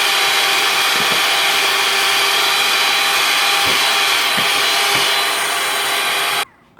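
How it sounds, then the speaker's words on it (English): Electric mixer whipping egg whites until foamy, a loud steady whirring motor with faint beater knocks against the bowl, running continuously before cutting off near the end. "we're going to start whipping up the eggs to make it nice and foamy"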